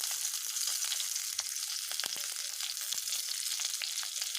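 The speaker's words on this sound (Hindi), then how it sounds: "इसके लिए मैंने गोभी को मैं फ्राई कर रही हूँ गोभी को" Cauliflower fries in a pan with a continuous bright sizzle and scattered crackles and pops, close and steady throughout with no talking.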